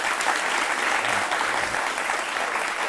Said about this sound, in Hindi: एक तालियां बजाओ आप लोग